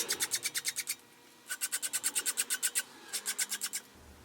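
A small chest lock key is trimmed with a file: three bursts of quick, rhythmic rasping strokes, about seven to ten each, separated by short pauses, close and crisp with no talking.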